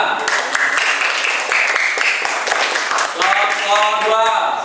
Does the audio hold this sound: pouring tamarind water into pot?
no